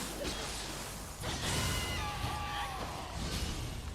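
A Flying Bolt attack lands in the video game Nioh 2, with a sharp swish and thump followed by a sustained, rushing electrical whoosh and crackle lasting several seconds.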